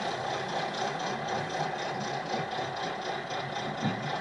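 A Southerly 135 boat's engine idles in reverse with a steady, even mechanical hum and faint rhythmic knock, heard close and continuous with no talk.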